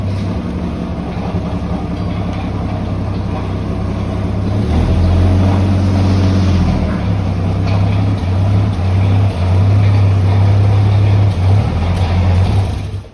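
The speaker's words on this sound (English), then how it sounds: "It did a burnout. Didn't it spin the tire?" An AMC Gremlin that sat for 32 years revs hard in a heated garage while its tire spins in a burnout, a loud, steady engine roar with a droning low rumble that swells midway and holds.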